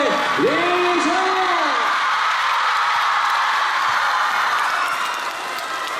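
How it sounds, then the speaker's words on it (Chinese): A Shanghai audience at a fan event bursts into sustained applause mixed with cheers, while a single amplified voice rings out briefly at the start before the clapping carries on alone, fading slightly at the end. "请把持续的掌声先送到所有给李晨。"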